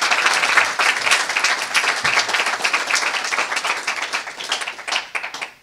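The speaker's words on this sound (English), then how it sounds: "let's have a round of applause again for this year's outstanding group of young professionals" Sustained, loud applause from a crowd at an awards ceremony honoring young professionals, with many hands clapping densely and evenly for several seconds before tapering slightly at the end.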